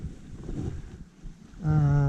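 Wind gusts across the microphone outdoors on a riverbank during fly fishing, a low buffeting rumble that eases briefly, then a steady tonal hum with harmonics joins near the end.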